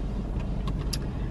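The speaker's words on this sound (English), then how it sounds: "I just got in a car not too long ago" A car's interior rumble while driving, a steady low road and engine drone filling the cabin throughout, with a few faint higher clicks and no talking.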